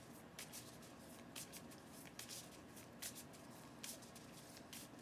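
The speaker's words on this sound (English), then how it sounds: "take the other cards and we're going to give them a shuffle" Soft riffling and shuffling of playing cards, a series of brisk papery bursts over a quiet hiss, close by.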